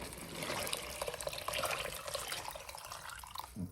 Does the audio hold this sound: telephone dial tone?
no